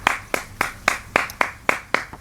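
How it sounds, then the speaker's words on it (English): A single person claps slowly and evenly, about eight crisp, close hand claps in a steady sarcastic rhythm with nothing else behind them. "I appreciate the sarcastic clapping"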